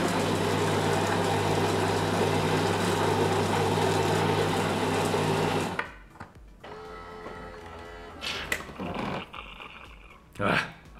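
A Siemens EQ6 espresso machine making strong coffee gives a loud, steady whirring grind for about six seconds, then cuts off, leaving quieter clicks and short bursts of mechanical noise.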